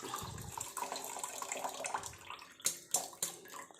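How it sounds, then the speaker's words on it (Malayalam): Cooled tea water splashes and gurgles as it is poured out of a pot, a continuous trickle that ends in a few louder sloshing spurts near the close. "വെള്ളം നല്ലപോലെ തണുത്തിട്ടുണ്ട് നമുക്കത് ഒഴിച്ചെടുക്കാം"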